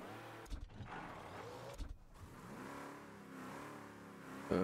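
A car engine revving and accelerating in the video game Mafia, a steady mid-pitched drone that rises and falls in pitch at a moderate level, with no talking.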